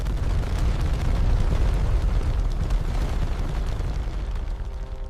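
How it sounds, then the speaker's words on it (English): A deep, roaring explosion rumbles continuously and loudly, evoking the second blast of the Chernobyl nuclear reactor disaster in Ukraine, with a dense low-frequency roar that barely fades over several seconds and no voices. "A second explosion followed moments later."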